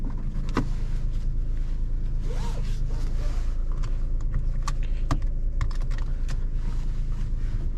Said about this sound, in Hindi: तो ये रही इसकी इंजन की साउंड।